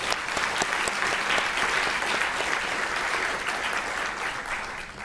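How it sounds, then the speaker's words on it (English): An audience at a medical school Match Day ceremony applauds, a dense, steady wash of many hands clapping together that holds throughout and eases slightly at the end. "And so a big round of applause for all of our team members."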